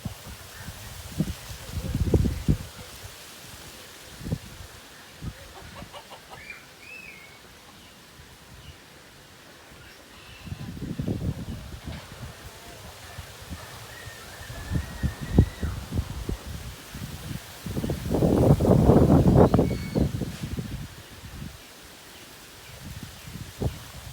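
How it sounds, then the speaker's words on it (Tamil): Strong storm wind gusting through coconut palms in Jaffna, rising in rough roaring surges with leafy rustling between quieter lulls, the loudest gust near the end. "இப்படி வேகமாக காற்று வந்து வீசிக்கிட்டு இருக்குது"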